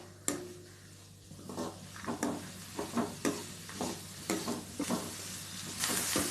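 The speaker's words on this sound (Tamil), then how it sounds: "இப்போது நம்ம வெங்காயத்தை போட்டுடலாம். போட்டு நல்லா வதக்கிக்கலாம்." Onions with dried red chilies and green chilies are sautéed in hot oil for coconut onion chutney, giving a steady sizzle under repeated rhythmic scrapes and stirs of a spoon against the pan.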